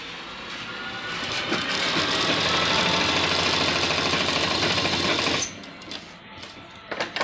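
A sewing machine runs a continuous stitch along a folded strip of a men's kurta, a fast, dense mechanical whirr close up that builds, holds steady for several seconds, then stops, followed by a few light clicks of the machine.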